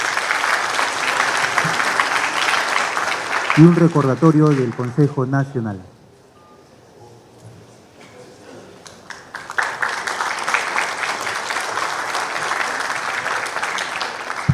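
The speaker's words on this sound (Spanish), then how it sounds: "Aplausos, señores." A crowd at a seismic-risk forum applauds loudly, then someone speaks briefly in Spanish over it; the clapping stops for a quiet pause before another round of applause builds and continues.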